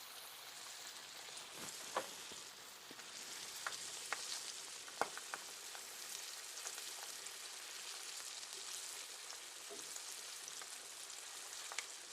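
Steady crackling sizzle of battered green tomatoes deep frying in hot oil, with occasional sharper pops and spits over a constant bubbling hiss.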